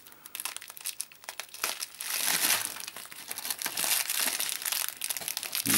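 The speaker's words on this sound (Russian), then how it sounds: "Следующая посылочка. Открываем." A plastic parcel package from AliExpress is torn open and crinkled by hand, with irregular close-up crackling and rustling bursts that grow busier midway.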